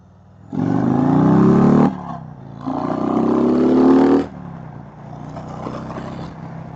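Harley-Davidson Road Glide and Indian Challenger bagger motorcycles accelerating hard nearby, two loud sustained engine pulls with rising revs, each cutting off abruptly, followed by a quieter idle.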